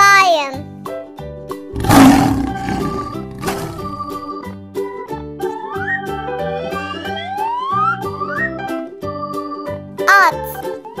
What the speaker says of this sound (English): Aslan, yani lion.